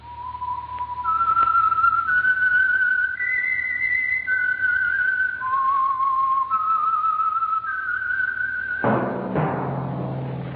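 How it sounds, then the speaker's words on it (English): A melodic whistled theme for the Signal Oil radio program The Whistler, a clear solo tune of gliding sustained notes that runs for about nine seconds before an orchestral sting comes in. "That whistle is your signal for the Signal Oil Program, The Whistler."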